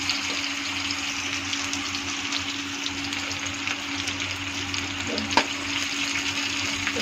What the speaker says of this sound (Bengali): পেঁয়াজটা একটু ভাজা ভাজা হওয়ার জন্য রেখে দিলাম